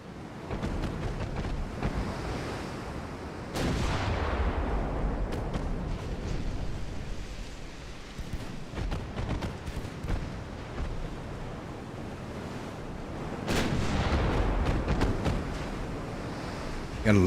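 Warship main and secondary guns boom in Ultimate Admiral: Dreadnoughts, a French 1890-era fleet in battle: a steady roar of rolling blasts with heavier salvos rising near the start and again toward the end, over constant sea-like rumble.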